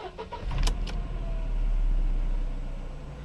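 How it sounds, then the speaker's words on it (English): A Mercedes-Benz SLK 230 engine cranks and catches after a K40 relay fix, then settles into a steady, smooth low idle. "And we have ignition, and we're nice smooth idle."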